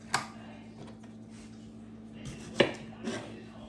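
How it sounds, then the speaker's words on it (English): A knife chopping a tomato on a board for pico de gallo, giving a few sharp, separate knocks spaced apart against a low steady background hum, close and fairly quiet. "Let's chop up a tomato."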